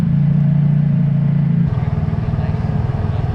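An ATV quad engine drones steadily while riding a rough, bumpy desert trail near Lake Pleasant, Arizona, a low continuous hum that shifts pitch midway as the throttle changes, with no talking over it.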